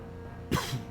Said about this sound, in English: Sorry, I just coughed.